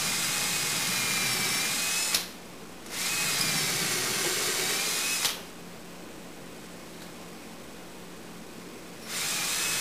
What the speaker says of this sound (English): Now I can drill the pilot holes for those number 14 screws